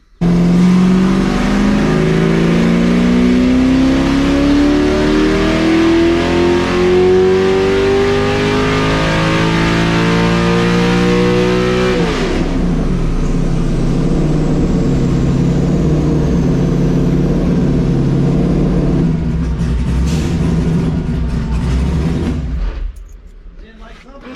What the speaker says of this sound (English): We'll get it rolling, get it into 4th gear, let it go.